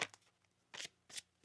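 Tarot cards being shuffled, in three quick riffling bursts with short pauses between, close and clear with no talking.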